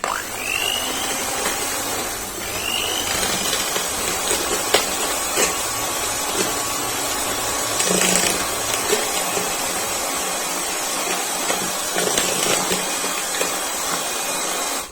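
An electric hand beater whisks cake batter for a vancho cake at high speed, a steady close whirring hiss with faint scraping that runs continuously and evenly, no one speaking.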